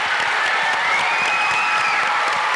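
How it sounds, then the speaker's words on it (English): Audience at an IdeaFestival Bowling Green speaker session applauding the speakers, a dense, loud, continuous roar of clapping with faint cheering mixed in. "Let's give a round of applause to our speakers."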